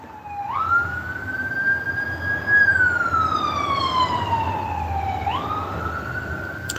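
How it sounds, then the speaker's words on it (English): A police car siren passes by outdoors, its wail sweeping up and down in long rising and falling tones, loud and clear over low traffic rumble. "pardon the police car passing by"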